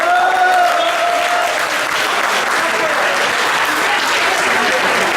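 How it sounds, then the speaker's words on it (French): Steady, loud applause from the audience at the Lotto-Run 2018 charity run awards in Liège fills the whole stretch, with some overlapping voices and a whistle-like tone early on. "On vous applaudit, bravo."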